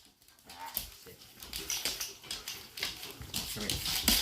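A dog whimpers and shuffles restlessly while being fitted with a new body harness on a farm, giving soft, close whines amid rustling and scraping, with a few voices in the background.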